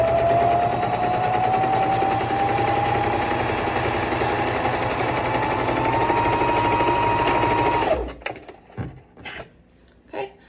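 A sewing machine runs one long, steady burst of stitching while back-stitching a face mask seam, its motor whine rising slightly in pitch, then stops abruptly and gives way to a few faint handling clicks.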